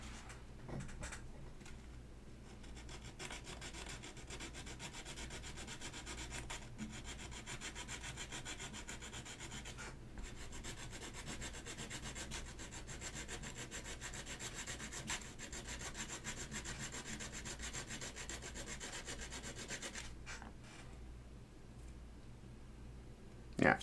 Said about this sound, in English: You get to watch me file down the aluminum.